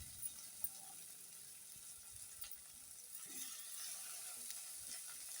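Onion and tomato sauté in a pan for lasuni methi (garlic fenugreek), a faint, steady sizzle and hiss with a few soft clinks near the start and no voices.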